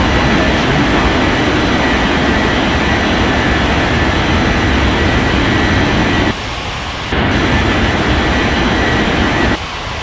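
Airplane taking off on runway 35 in a Roblox air traffic game, a loud steady roar of engine and rushing noise that cuts out briefly twice.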